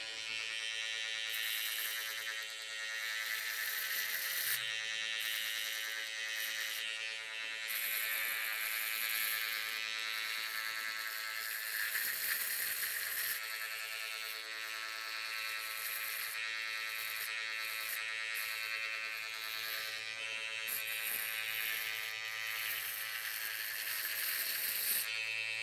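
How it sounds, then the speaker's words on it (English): An electric hair clipper buzzes steadily while cutting hair for a fade, a close, continuous hum with slight shifts in pitch as it moves through the hair. "So you have to go slow, let the clipper work."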